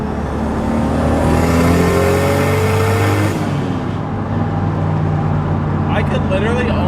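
A Toyota Supra on R888 tires accelerating in third gear, its engine note climbing steadily and loudly before easing off, with someone talking over it.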